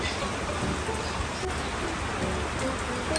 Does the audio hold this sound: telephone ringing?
no